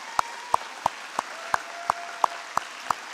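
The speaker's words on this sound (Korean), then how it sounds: "우리 하나님께 영광의 박수를 올려드리겠습니다" A church congregation at a dawn service claps together in steady unison, about nine sharp, evenly spaced claps, roughly three per second, crisp against a quiet room.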